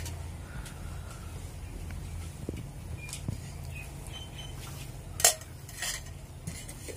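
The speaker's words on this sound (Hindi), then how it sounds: "मैदे दे विच आपां रिफाइंड नूं चंगी तरह मिक्स कर" Refined oil is worked into maida flour in a bowl for a namkeen snack, with soft scraping and light clinks of a utensil against the bowl, plus one sharper knock, over a low steady background.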